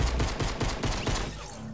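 Rapid bursts of gunfire in Fortnite Chapter 2, fired in a tight rhythmic volley for over a second and then breaking off, loud and close.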